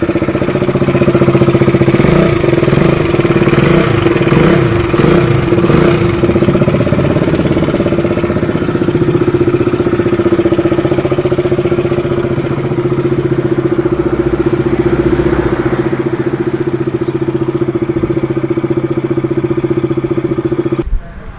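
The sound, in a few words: KTM 200cc motorcycle engine running with timing chain noise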